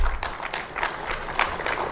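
A handful of people clap sparsely in a few uneven bursts, thin and brief rather than a full round of applause.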